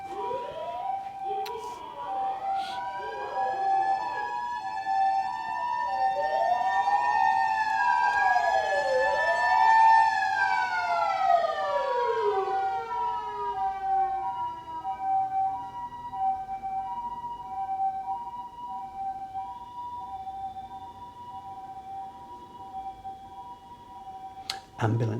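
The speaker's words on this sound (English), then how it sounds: "Ambulance going by." An ambulance siren sweeps past near a hotel street, its wailing tones rising loud in the middle and then fading into the distance over steady traffic noise.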